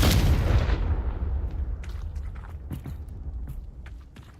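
Confringo blasting spell in Hogwarts Legacy bursts as a loud, close explosion that booms and decays over a few seconds, followed by scattered crackling debris.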